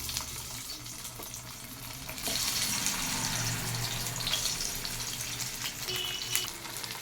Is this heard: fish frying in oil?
yes